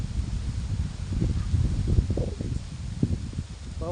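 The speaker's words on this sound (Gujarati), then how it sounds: "પવન બહુ ચાલી રહ્યો છે" Strong wind tosses the trees outdoors, a continuous low, gusty roar with rustling surges and a few louder bursts, fairly close and with no talking.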